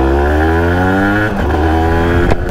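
Aprilia RS 125 motorcycle engine, running again after a faulty spark plug was replaced, droning loudly and steadily close by, with a brief dip in pitch and a sharp blip near the end.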